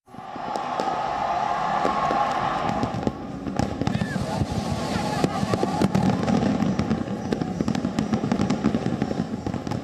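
New Year fireworks bursting over Copacabana beach in Rio de Janeiro, a dense rapid crackle of pops and booms running steadily for the whole stretch with a crowd murmuring underneath.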